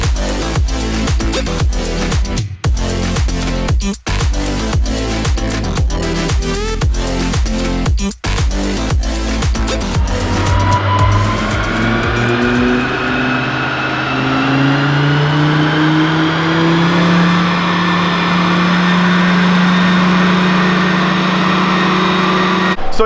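The engine of a Volvo V70R sleeper wagon roars on a chassis dyno during a power run, first with a stuttering, rapid series of loud pulses, then a sustained rising howl as it climbs through the revs.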